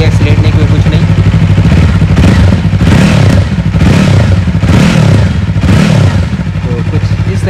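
2024 Yamaha MT-03 motorcycle engine revving close up, loud exhaust note rising and falling in four or five repeated throttle blips over a steady idle rumble.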